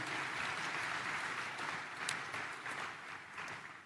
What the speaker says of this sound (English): Please join me in a round of applause for Anthony